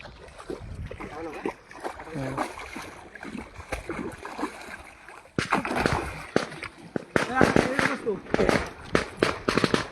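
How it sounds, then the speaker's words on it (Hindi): Firecrackers burst in a rapid string of sharp crackling pops nearby, under people talking and water sloshing. "ये लो पटाखा फोड़ दिया बच्चे।"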